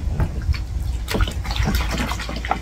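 Water splashing and squelching in the hands while lathering soap into foam, a close series of wet slaps and swishes in an irregular rhythm.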